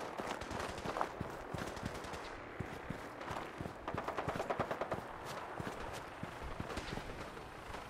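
Rapid gunfire from Fallout 4 crackles as dense automatic bursts, with overlapping reports from several weapons in a continuous firefight, fairly faint overall.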